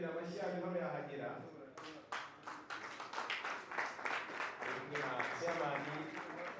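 A crowd gives scattered, continuous applause as CDS General Mubarakh Muganga and other guests arrive at an APR football club event, with sharp claps running under loud announcer speech.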